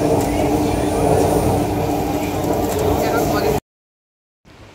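A passenger train on the Digha to Kolkata route runs with a loud, steady rumble and rattle for about three and a half seconds, then the sound cuts off abruptly. Faint voices murmur beneath the noise.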